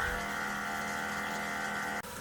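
A VEVOR electric pump for a 5 gallon water jug, installed with a faucet in a kitchen, runs with a steady droning hum and tonal whine, then cuts out abruptly near the end.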